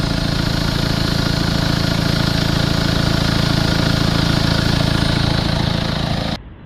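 A Mercedes C250 CDI diesel engine with a blocked DPF runs steadily at a loud, even idle with a constant drone, then cuts off abruptly near the end.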